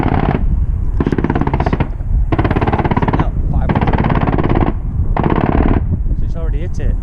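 An Osprey's aircraft gun fires live at the Donna Nook bombing range, with loud, rapid rattling bursts of about a second each, repeated five times with brief gaps, heard close and forceful.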